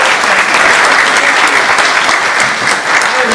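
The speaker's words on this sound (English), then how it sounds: "Let's give him another round of applause." Loud, sustained applause from an event audience greeting head chef Mark Newton, a thick continuous roar of clapping at close range that holds steady and eases slightly near the end.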